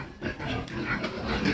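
A pig grunts and snorts in short, close bursts as it feeds on scraps, a low rough sound with no talking over it.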